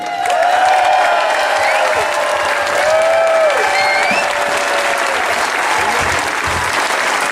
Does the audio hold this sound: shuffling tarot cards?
no